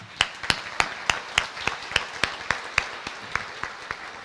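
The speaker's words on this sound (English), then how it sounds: "Let's give a round of applause." At a veterans resource fair at Brookfield Zoo, clapping comes as distinct, evenly spaced sharp claps, about three a second, over a faint crowd murmur.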